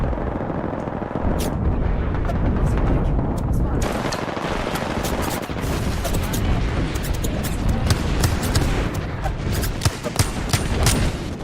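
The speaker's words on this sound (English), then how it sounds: "Airstrike danger close." Airstrike explosions and heavy gunfire in the video game Apex Legends, a dense, continuous barrage of booms and rapid shots with sharp transient cracks throughout, loud and close, with game voice lines in the mix.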